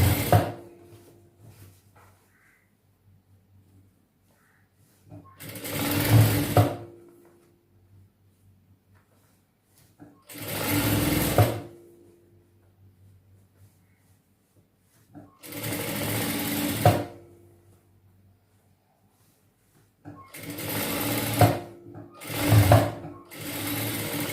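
A sewing machine stitches piping on a chudidhar top in repeated bursts of fast mechanical whirring and clatter, about five runs separated by quiet pauses.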